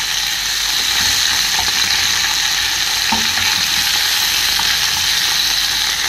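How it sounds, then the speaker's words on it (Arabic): Egyptian sausage sizzling loudly in a frying pan, a steady dense crackle with occasional scraping clicks as it is turned and stirred, close and continuous with no talk. "يعني بقعد اقلب عشان ايه ما الطاسه ما تمسكش، ما يلزقش في الطاسه."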